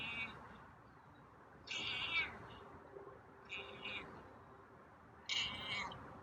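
A feral cat meows in a chain of short cries outdoors, four separated calls spread over a few seconds, moderately close against quiet background hiss.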